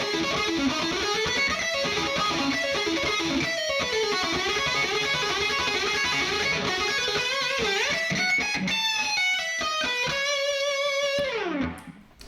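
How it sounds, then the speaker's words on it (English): Distorted electric guitar shredding a fast run of 16th notes, dense, loud and steady with effects, locked into a rhythmic pattern, stopping abruptly near the end; no talking. "From there, I start to get a little more shreddy, let's say, with some 16th notes."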